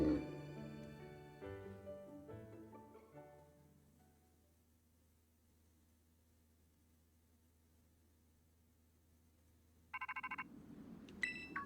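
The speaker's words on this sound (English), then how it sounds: "And our phone's ringing." In Pokémon Scarlet, a cheerful game jingle fades to near silence, then a short electronic phone ring chimes near the end, brief and clear over faint background hiss.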